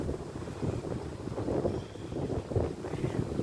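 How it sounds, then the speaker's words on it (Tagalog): Strong wind buffets the microphone at a seaside marina garden in Kuwait, a continuous low rumbling roar with gusts that swell and ease throughout. "Very windy."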